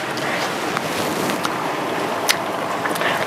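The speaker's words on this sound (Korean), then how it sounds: "소리 들리시죠? 아, 이 청량한 바닷소리와 함께" Sea waves wash steadily along the shore at a roadside car-camping spot at night, a continuous broadband rush with faint splashes, heard alone.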